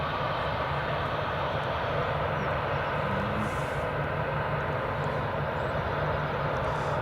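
Steady broadband jet engine roar of an airliner with Pratt & Whitney engines at Edinburgh Airport, constant and fairly close, with a faint low tone running through it and no voices.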